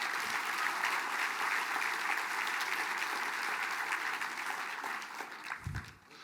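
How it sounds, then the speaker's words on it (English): Audience applause for dignitaries at a Mille Lacs Band of Ojibwe gathering, a dense sustained round of clapping that holds for about five seconds before tapering off near the end. "can we give the dignitaries one more round of applause,"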